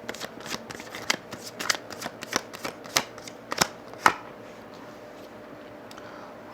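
A tarot deck being shuffled close by, a quick series of crisp card snaps and riffles for about four seconds before it fades into quiet room tone, with no voice.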